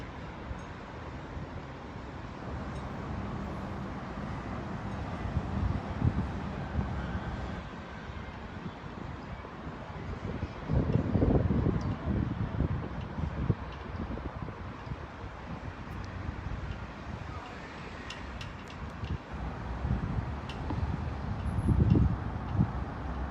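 Wind buffets a microphone at an outdoor bowls match, steady low rumbling gusts with louder surges now and then, continuing for over twenty seconds with no voices.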